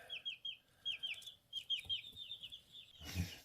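Baby chicks being moved into a backyard coop peep in quick, high repeated chirps, a busy close cluster of calls, ending in a brief rustling thump.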